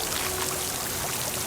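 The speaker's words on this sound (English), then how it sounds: "Water's coming from that vent." Water pours from a vent in Horizon Forbidden West, a constant close hiss of streaming water that stays even and steady.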